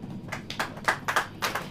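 A church congregation claps during a sermon, giving about six sharp, separate hand claps at an uneven pace, close and moderately loud.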